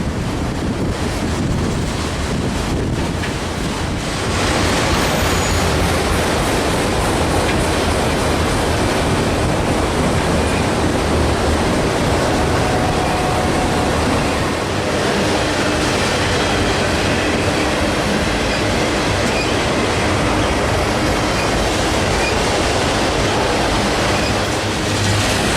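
A Norfolk Southern freight train hauling autoracks rumbles past continuously and loudly, with a heavy wash of rolling noise and wind buffeting, no voices.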